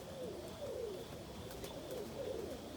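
Pigeons coo steadily inside a loft, their soft, rolling calls repeating in overlapping phrases against faint background noise, with no talking.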